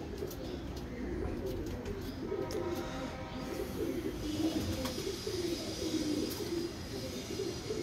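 Low, rolling coos from a big pigeon in wet, rainy weather pulse in steady rounds over a continuous rush of background noise.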